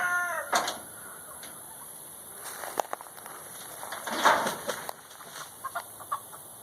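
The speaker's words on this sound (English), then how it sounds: "Chicken right here is the reason why I was coming to check on Rescue Squad" Chickens cluck in a farmyard: several soft, scattered clucks and short calls come from nearby, rising into a brief louder burst midway, over a steady background of insects or birds, with no voices.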